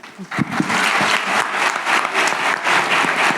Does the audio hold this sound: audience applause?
yes